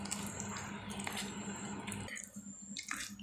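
Palm fruit pulp squeezed and squished by hand in water to draw out the juice, giving wet, dripping squelches that run steadily and then thin out into lighter splashes near the end.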